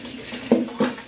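Cold water runs from a kitchen tap into a container, a steady close splashing with two brief louder clunks as the vessel shifts.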